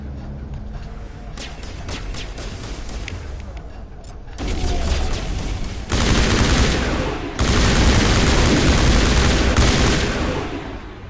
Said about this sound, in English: very expensive assault rifle for the win